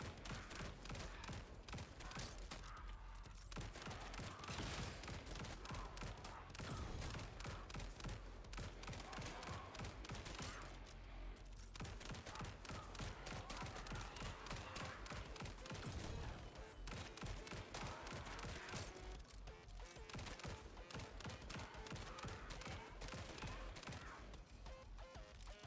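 Rapid, dense bursts of gunfire from bouncing bullets in the Grind Survivors video game, fired four at a time in a continuous loud barrage with game music and effects, no talk.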